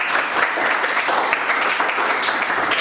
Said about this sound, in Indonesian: Tepuk tangan dulu kelompok kuningan.